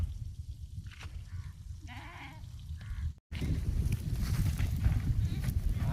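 A few goats bleat in a rural setting, with several short, wavering calls close by during the first three seconds, followed by a rough, noisy outdoor background.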